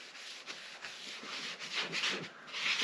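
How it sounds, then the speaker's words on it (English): An oil-soaked rag rubbed over a wooden cutting board gives a soft, close, continuous swishing that swells and fades with each stroke and carries no talk. "I got my rag that is already soaked in the stuff. And then basically I'm just going to rub it all in."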